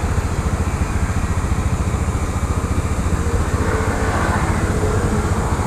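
A Honda motorcycle engine, just started, runs at a steady idle with a rapid, even thumping pulse. It is loud and close, continuous throughout, with no talk over it.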